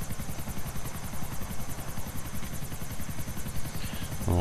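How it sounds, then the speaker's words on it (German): A helicopter flies at night in a video game, its rotor chopping in a steady, rapid rhythm over a continuous engine whine. The sound stays loud and close throughout with no talk. "Deswegen habe ich den Hubschrauber genommen."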